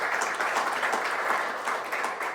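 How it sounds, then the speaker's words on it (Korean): Audience applause at a shared-growth forum in Korea, a steady, dense clapping from a room full of people, sustained at even loudness without pause. "박수 한번 보내주시죠."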